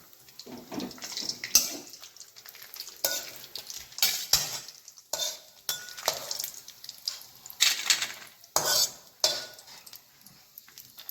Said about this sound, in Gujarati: કાજુ અને બદામના ટુકડા સતળાઈ ગયા છે તો આપણે એને એક ડીશમાં કાઢી લઈશું